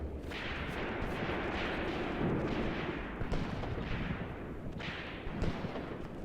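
Gunfire and tank cannon fire in the WWII tactical war game Graviteam Tactics: Mius Front, a dense, continuous barrage of rumbling booms and shots with louder blasts near the middle and end, no voices.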